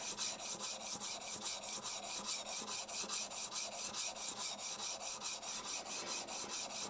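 A steel plane blade scrubbed back and forth on sandpaper to flatten its badly out-of-flat back, a steady rhythmic rasping stroke repeated about four times a second, close and fairly quiet, with no voices.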